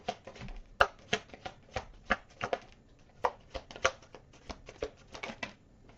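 Tarot cards shuffled by hand in quick repeated riffles and taps, close and fairly quiet, with no talking.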